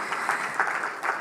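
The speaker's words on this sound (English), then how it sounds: "Another round of applause for Bwana Waziri" Applause for a minister at the KRA @ 30 launch: a short, steady burst of crowd clapping with slight swells, no talk over it.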